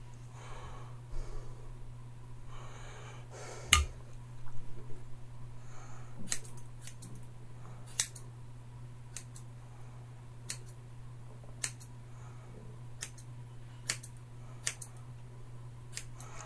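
Scissors snip through hair during a home self-trim, giving a run of sharp, separate clicks spaced a second or two apart over a steady low hum, fairly close and fairly quiet.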